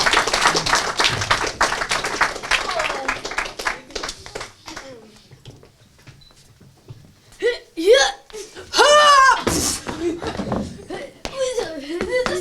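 At an improv theatre performance, a burst of audience clapping fades out over the first few seconds, followed by a near-silent gap and then excited voices and laughter.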